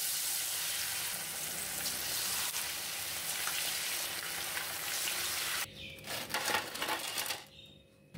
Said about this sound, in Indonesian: Dan goreng semuanya sampai selesai.